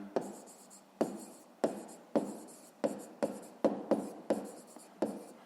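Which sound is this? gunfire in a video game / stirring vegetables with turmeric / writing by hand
writing by hand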